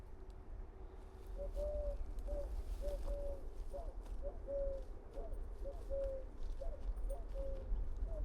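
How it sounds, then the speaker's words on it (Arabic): Pigeons coo in an orchard with repeated soft, rhythmic calls at a steady pace, fairly faint over a low background rumble in a quiet rural setting. "اسمع صوت الحمام."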